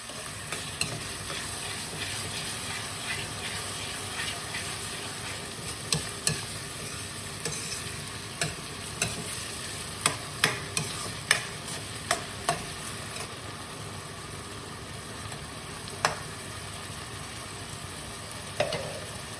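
Chopped onion with cumin seeds and hing sautéing in a pan for Kathiyawadi kaju gathiya shaak, a steady close sizzle with repeated scrapes and taps of a stirring spoon, no talking.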